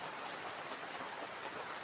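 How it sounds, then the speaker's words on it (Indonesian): Rain falling at night in a cold forest near a river, a soft, steady wash of hissing patter at low volume, with no one talking. "walaupun malam ini hujan-hujan seperti ini ya"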